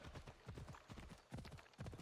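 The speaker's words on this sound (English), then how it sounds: "She has got to be on a horse." A horse gallops in the video game Assassin's Creed Odyssey, giving rapid, rhythmic hoofbeats that thud steadily and evenly throughout, fairly close and with no talking.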